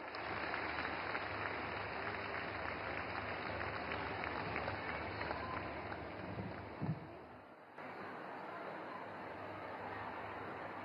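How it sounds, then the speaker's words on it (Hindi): An audience at a government event launching the Bima Sakhi Yojana applauds to welcome a minister, with broad, sustained clapping that carries on without a break and shifts in tone partway through. "तालियों से स्वागत करें माननीय मंत्री महोदया का।"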